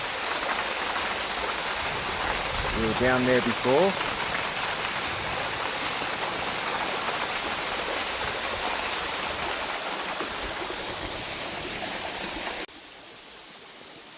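Waterfall on Tooloona Creek, with a steady, loud broadband rush of water throughout and a brief spoken remark early on, before the roar drops abruptly near the end.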